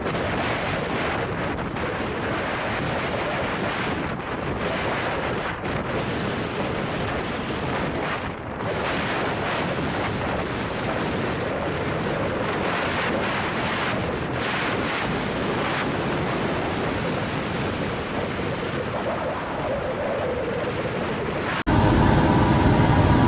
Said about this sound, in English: A large fishing vessel flying the flag of the Netherlands confidently passes the waves in a storm.